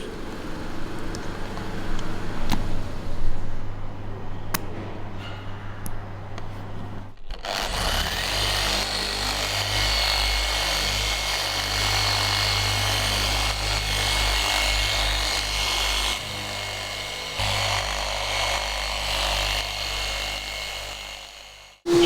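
A power polisher works fine polishing compound over the paint of a 7.5-litre V8 Oldsmobile Toronado in a garage, starting after a quieter stretch and then running as a loud, continuous whir for about fifteen seconds.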